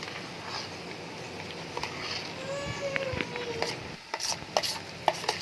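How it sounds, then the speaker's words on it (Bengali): A spoon stirs spices into mashed green banana in a pan, making faint scraping and soft patting sounds in an irregular rhythm with a few sharper knocks. "মশলা আর কাঁচকলা বাটা ভালোভাবে মিশিয়ে নেব।"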